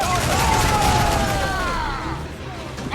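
Ship cannons fire in a rolling volley of booms during a naval battle in the video game Assassin's Creed Freedom Cry, loud and dense under a shouting voice.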